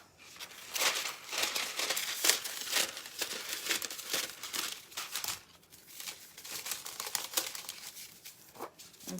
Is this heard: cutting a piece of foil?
yes